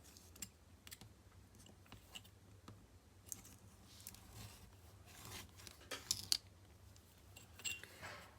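Scissors cut a transparency sheet in half, a series of faint crisp snips and clicks at close range, with no talk.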